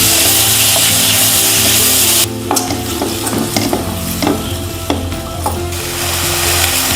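Ginger, garlic, chilli, tomato and onion sizzle steadily in a hot pan, with a few sharp scraping stirs and clatters of the spoon against the pan partway through; no talking.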